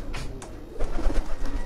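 Pigeons in a fancier's loft coo in short throaty bursts nearby, growing louder after a moment over a low rumbling background, with no talk.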